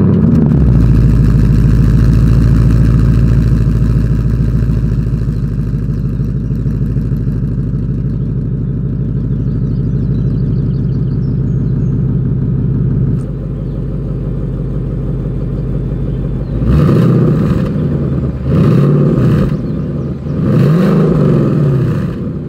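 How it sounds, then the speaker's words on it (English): A 2020 Ford Mustang GT's exhaust rumbles loud and steady at a fast idle, then after a short dip it breaks into several sharp throttle blips, each rising and falling quickly. No voices are heard. "let's go ahead and do that exhaust clip"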